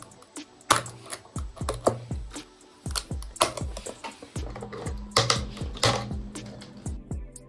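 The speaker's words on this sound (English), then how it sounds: "Removing supporters is the biggest test of patience in 3D printing." Support material from a 3D print being peeled away, producing a string of sharp, dry clicks and snaps in an irregular rhythm, close and distinct, with no talk.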